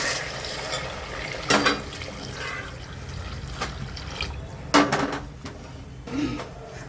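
Hot water is poured into roasted masala for a Kolhapuri fish curry, giving a soft splashing hiss punctuated by a few sharp clanks of a spoon and pot, close up and without speech.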